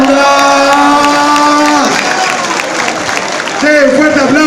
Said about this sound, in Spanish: fuerte aplauso también para nuestro amigo Trueno